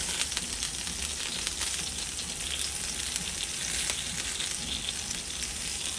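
Millet batter spread thin on a hot iron tawa, sizzling with a steady, even frying hiss throughout, close and continuous with no talk.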